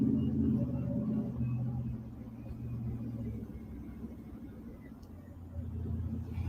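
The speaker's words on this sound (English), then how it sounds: "now I'm driving, so I can't do too much" Steady low car engine rumble from inside a moving vehicle, continuous throughout with a slight swell near the end, while someone talks over it.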